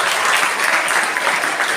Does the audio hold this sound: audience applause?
yes